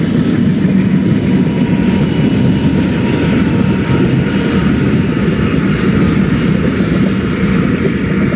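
A passing train locomotive, an unmanned engine run by radio control from the lead cab, gives a loud, steady low rumble and roar close by, holding constant throughout with no voices.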